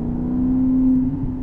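A Maserati GranCabrio with a 4.7 engine hums in a low, steady drone that swells slightly, heard from inside or near the car with no voices.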